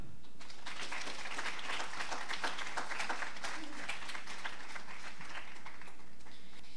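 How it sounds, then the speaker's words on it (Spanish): Church congregation applauding during a service, a continuous crowd of hands clapping with distinct individual claps audible, moderately distant and even in level. "De un aplauso al Señor."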